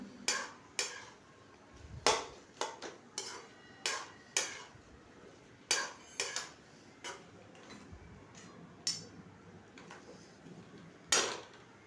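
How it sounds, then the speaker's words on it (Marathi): Onion and vegetables stirred in a pan with a utensil, heard as a series of sharp clinks and scrapes at irregular intervals, fairly close and otherwise quiet. "ते चांगलं हलवून घ्यायचं चांगलं हलवून घेतल्यामुळं काय होतं भाजीत कांदा चांगला मिक्स होतो"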